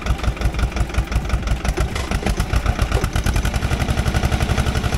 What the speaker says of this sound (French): Pour la mise en route du moteur, il faudra mettre le contact